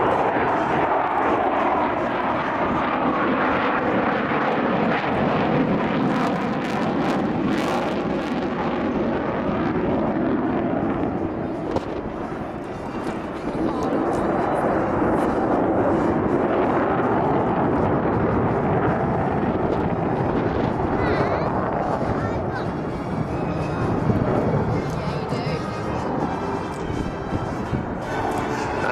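Avro Vulcan XH558 bomber at an air display roars overhead with its four jet engines at full power, a loud, sustained, broadband rumble with shifting tone as it climbs, filling the whole stretch with no talk.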